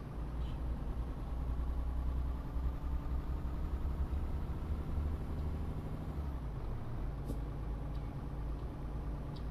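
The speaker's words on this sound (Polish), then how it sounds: "taki tir z przyczepą pod górkę" A truck pulling a trailer climbs a hill in Euro Truck Simulator 2, its engine giving a steady low drone that stays constant throughout, with no talking.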